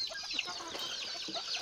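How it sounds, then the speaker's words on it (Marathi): Native country hens on a small village farm cluck softly and chatter in short, overlapping calls, faint and close, against a quiet outdoor background. "कुक्कुटपालन आहे, तर गावरान कोंबड्या आहेत"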